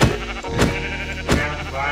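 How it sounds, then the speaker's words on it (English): A Minecraft sheep bleats in the video game, loud and close, two wavering bleats spaced about a second apart with nothing else around them. "Kill the sheep."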